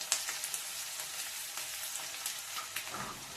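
Onions fry with salt in a pan for beetroot palya, a soft steady sizzle broken by a few sharp stirring clicks, close and fairly quiet.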